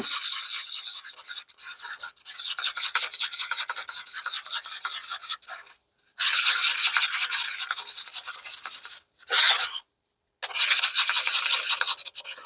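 White casting resin being stirred and scraped in a mixing cup, a close scratchy rasp in long bursts broken by short pauses.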